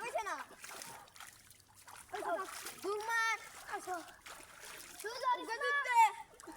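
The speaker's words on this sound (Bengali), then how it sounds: "সাঁতার দাও।" A child learning to swim, practicing leg kicks, splashes water in short bursts while adults speak and call out instructions nearby throughout, the splashing intermittent and mixed under the voices.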